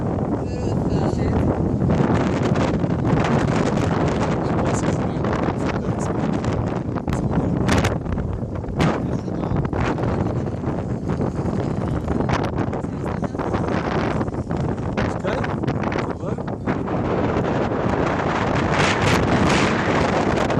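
Strong gusting wind batters the microphone nonstop at a paragliding launch on Zobor hill, a loud, rough roar with sharp bursts, and brief voices are partly buried beneath it.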